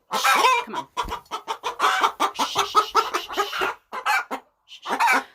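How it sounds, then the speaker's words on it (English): Backyard chickens cluck loudly and close in a busy, irregular run of short agitated calls, one bird after another, with brief pauses between bursts. "because now the chickens are getting crazy"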